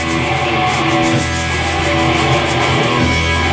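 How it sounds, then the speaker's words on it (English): A wheel sander works over a car hood's bodywork with a loud, steady, close rubbing roar that holds constant without a break, and no one speaks. "The wheel sander finally showed up."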